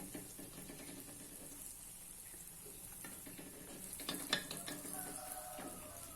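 Soft, steady bubbling and sizzling of liquid donut batter frying in oil inside a mold, faint and continuous with a few small clinks near the end.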